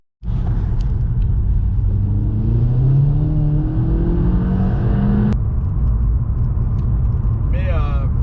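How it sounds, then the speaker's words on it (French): A 2002 VW Golf IV GTI 25th Anniversary with a 216 hp engine cranks and catches, then idles with a low, steady buzz whose pitch climbs slightly as it settles. "quand on le démarre comme ça et qu'on n'accélère pas, on va avoir on sent que ça bourdonne un petit peu"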